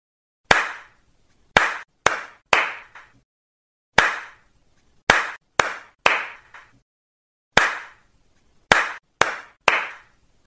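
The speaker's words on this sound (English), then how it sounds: "Binny, now you come forward and count my claps." A teacher claps her hands in a counting pattern, sharp isolated claps in groups of one then three, repeated with pauses in a quiet room.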